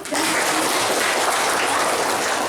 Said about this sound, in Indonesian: Silakan tepuk tangan untuk Ayu.